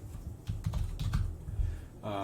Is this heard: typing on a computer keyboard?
yes